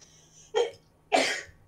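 Two short, sharp sneeze-like bursts about half a second apart, close and moderately loud against a quiet background.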